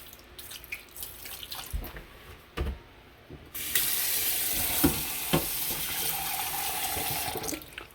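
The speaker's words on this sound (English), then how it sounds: "I'm just gonna rinse it with some vinegar" Raw shrimp from a fish market get rinsed with vinegar under running water, with light splashes and clatter first, then a steady close hiss of flowing water from a tap over a sink, and no talk.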